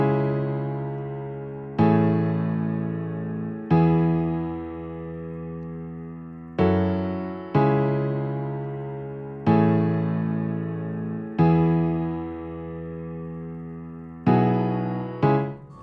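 Piano chord progression with added harmonies played in Logic Pro X: eight sustained chords struck one after another, each ringing and decaying before the next, clear and solo with no voices.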